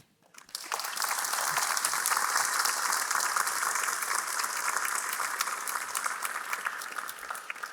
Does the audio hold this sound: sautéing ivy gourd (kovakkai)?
no